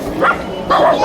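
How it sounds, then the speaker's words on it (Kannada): A dog gives two short, loud barks close by, yelping in quick succession. "ಒಂದು ನಾಯಿ ಹಿಡ್ಕೊಂಡ್ರೆ ಸಾಕು ಎಲ್ಲ ನಾಯಿ ಜೋರಾಗಿ ಅಳ್ತಾ ಇದ್ವು"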